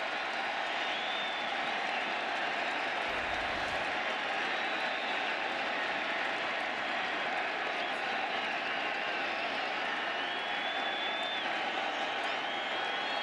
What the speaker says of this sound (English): That swing and miss woke up this crowd.